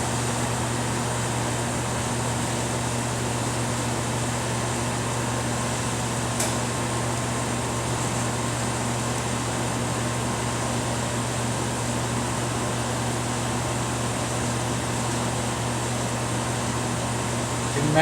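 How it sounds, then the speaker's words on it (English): A turbo pump spinning at full speed on a Plasma-Therm System VII Batchtop etcher gives a steady, unbroken mechanical hum with a faint airy hiss, holding level throughout. "Once the turbo pump is at full speed and the normal operation LED is on"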